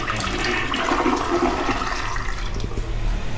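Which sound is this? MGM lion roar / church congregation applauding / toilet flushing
toilet flushing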